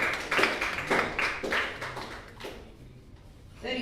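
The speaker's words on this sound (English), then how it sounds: "Please give her a round of applause." Audience clapping at a pitch competition event, a series of distinct bursts of hand claps at moderate distance that thin out and fade into quieter room noise toward the end.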